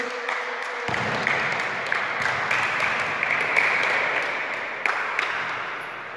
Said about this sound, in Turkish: arkadaşımızı alkışlıyoruz